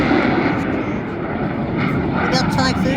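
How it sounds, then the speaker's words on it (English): A Eurofighter Typhoon jet flies at a seaside airshow, a loud, continuous roaring engine rush that swells slightly toward the end. It sounds like a single pass heard from the crowd. "We got Typhoon, you see."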